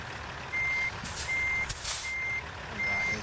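In American Truck Simulator, a truck's reversing alarm beeps four times at a steady, even pace while parking, loud over a constant engine rumble and hiss.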